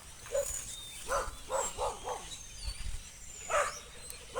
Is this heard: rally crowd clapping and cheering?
no